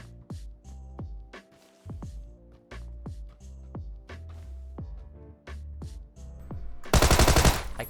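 Rapid automatic gunfire in the video game PUBG, a steady stream of loud close shots over a low droning background, ending in a burst of harsh noise.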